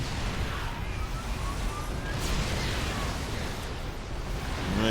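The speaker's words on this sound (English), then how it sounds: "And that should be enough for him to start pummeling this base with artillery shells." Siege tank artillery shells pound a base in StarCraft 2, a dense rolling barrage of booming blasts and bursts layered together in a continuous, loud battle din with no talk.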